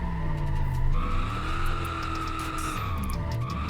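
A 6x6 truck drifting in BeamNG Drive, tires skidding and squealing in a long, wavering screech over a steady engine drone, the pitch sliding up and down as the truck swings through the slide.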